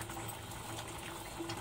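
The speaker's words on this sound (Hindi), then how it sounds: "अब हम कुकर को बंद करके" A pressure cooker lid being closed and locked while cooking dal, giving faint metallic ratcheting clicks and scrapes, quiet and close, with no talking.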